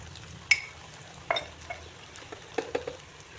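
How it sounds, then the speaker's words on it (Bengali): Green chili paste goes into onions frying in a pan, giving a light sizzle under a few sharp clinks and scrapes of a spoon stirring against the pan, with no talking. "এখন এতে আমি কাঁচা লঙ্কা বাটা দিয়ে দিচ্ছি।"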